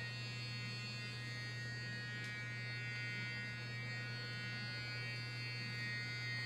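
A vibrating facial exfoliation cleansing brush for sensitive skin hums steadily and faintly at close range, an even electric buzz with no talking over it.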